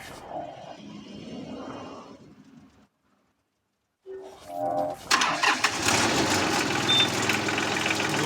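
A tractor engine cranks after a brief silence, catches on a cold start, and roars into a loud, steady run close by. Muffled movement and faint voices come before it.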